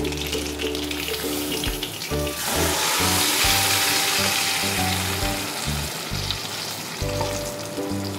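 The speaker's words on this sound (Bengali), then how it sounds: "ফোড়নে আমি বড় এলাচ দুটো দিয়ে দিচ্ছি, একটু জাস্ট ফাটিয়ে নিয়েছি। পেস্টটাও দিয়ে দিচ্ছি।" Spice paste with two black cardamoms sizzles in hot oil for mutton firazi, a steady loud hiss building after the first couple of seconds and holding, with a low tonal hum running underneath.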